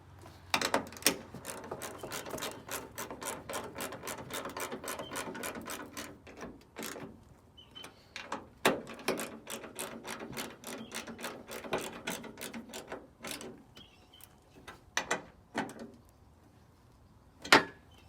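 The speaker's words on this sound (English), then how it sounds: "go ahead and tighten down the screws" Screws are tightened on a ditch light bracket of a 2016 or newer Toyota Tacoma, with rapid ratchet clicks in repeated bursts, close and moderately loud, separated by brief pauses and a few louder clacks.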